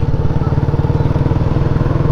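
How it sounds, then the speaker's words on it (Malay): A Suzuki four-stroke motorcycle engine idles loudly and close by, a steady, throbbing putter with an even rhythm. "Uish, motor Suzuki."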